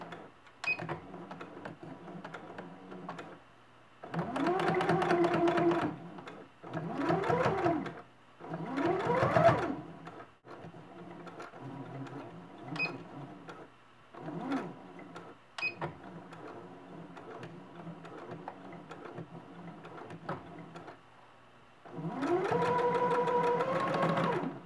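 A sewing machine runs a regular straight stitch along fabric while hemming a t-shirt. It whirs in several bursts of a few seconds each, with short pauses between them, close by and steady, and no one speaks.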